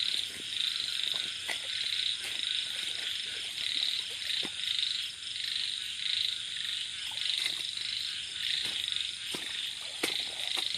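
Frogs croak in a dense night chorus during a frog-catching outing in Thailand, with repeated rhythmic calls and a steady high insect drone behind them.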